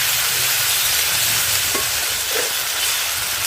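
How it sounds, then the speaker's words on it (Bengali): Ground garlic, ginger and cumin paste fries hard in oil with browned onion, a loud, dense, continuous sizzle and hiss that fills the whole moment, with a faint scrape or two of stirring. "এখন রসুন বাটা, আদা বাটা, জিরা বাটা দিয়ে মশলাটা ভালোভাবে কষিয়ে নেব।"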